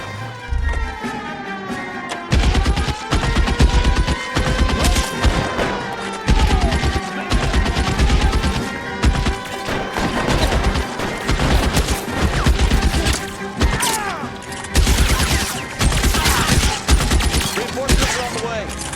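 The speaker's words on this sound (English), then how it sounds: "Guys, open fire. Open fire!" Heavy gunfire in the video game L.A. Noire comes as dense, rapid overlapping bursts and volleys, loud and nearly continuous, with background music and shouted voices running underneath.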